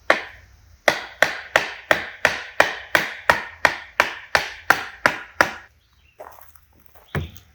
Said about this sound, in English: You can take a little board, try to hammer it down a bit.